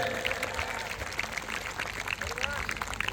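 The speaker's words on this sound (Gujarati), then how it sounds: "આયોજકો માટે એકવાર જોરદાર તાળીઓનો ગડગડાટ થઈ ગઈ" Crowd applause at an outdoor tribute gathering, a dense continuous clapping throughout under a loud voice speaking over a sound system.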